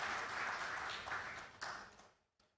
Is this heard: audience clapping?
yes